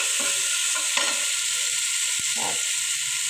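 Garlic, onion and cumin paste frying in a pan hisses steadily while a spoon stirs it, making a few soft scraping strokes and a single sharp click.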